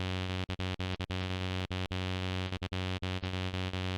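Serum 2 funky arp synth in a randomized groovy pattern: a bright, buzzy tone that holds steady while brief gaps chop it into an uneven rhythm, heard alone and fairly quiet.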